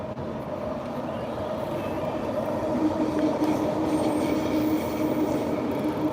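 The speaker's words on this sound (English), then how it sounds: "There's our SkyTrain." A Vancouver SkyTrain rumbles past nearby, its steady, dense roar of wheels on rail holding at a fairly loud level throughout, with a faint high squeal on top.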